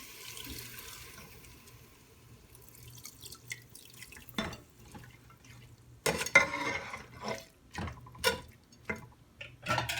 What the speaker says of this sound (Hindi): इसी तरह से ये आधा कप पानी डालेंगे।